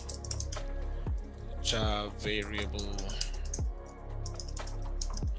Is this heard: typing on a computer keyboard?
yes